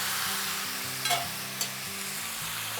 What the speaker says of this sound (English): we're just gonna deglaze our sauce to it and switch off the fire